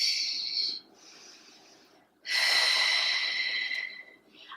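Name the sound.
exhaling breath during Pilates toe taps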